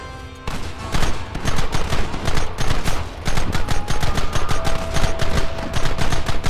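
Gunfire in Red Dead Redemption, a loud sustained volley of overlapping rifle and pistol shots that starts abruptly and keeps cracking in quick irregular bursts.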